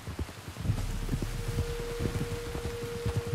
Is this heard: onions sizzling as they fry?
no